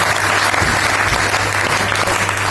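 Loud, continuous applause from a seminar audience cheering members joining a club, steady clapping throughout with a low hum underneath.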